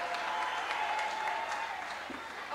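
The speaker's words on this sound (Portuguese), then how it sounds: "Palmas para o irmão Francisco" Audience clapping at a gospel thanksgiving concert, a dense, steady burst of applause filling the short stretch from start to finish.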